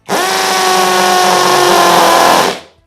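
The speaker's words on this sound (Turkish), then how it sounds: "Şunu da şey- şurayı delmeye çalışayım bakın." A power drill spins up sharply and whines at a constant high pitch while boring into material, then cuts off abruptly after about two and a half seconds.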